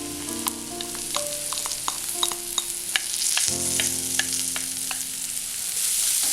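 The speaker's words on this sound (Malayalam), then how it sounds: "ഇനി ഇതിലേക്ക് നമ്മൾ കഴുകി മാറ്റി വെച്ചിരിക്കുന്ന ചെമ്മീൻ ചേർക്കാം." Dried shrimp go into hot oil with onions in a pan and set off a loud, close crackling sizzle. Scattered pops and scrapes of stirring sit over a low steady hum.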